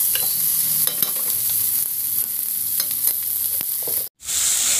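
Taro creeper stems are stir-fried in a pan with garlic paste, jackfruit seeds and dried fish, giving a constant close sizzle with frequent scraping stirs and a brief silent gap near the end.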